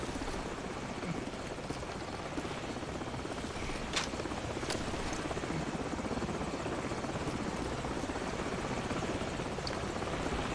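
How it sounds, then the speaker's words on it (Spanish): A helicopter in the video game Call of Duty 4 drones continuously for the whole stretch, a steady rotor and engine wash at moderate distance, with no voices. "coge un Stinger y cárgate a ese helicóptero"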